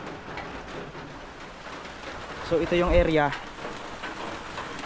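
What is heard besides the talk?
heavy rain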